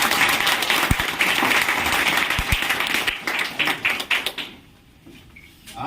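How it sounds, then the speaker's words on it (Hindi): An audience at a closing session of a business gathering bursts into loud, sustained clapping for several seconds, a couple of sharp close claps standing out, before the applause thins into scattered claps and fades near the end. "जोड़ा ताली होनी चाहिए।"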